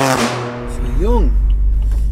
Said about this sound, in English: Ridiculously loud exhaust, right?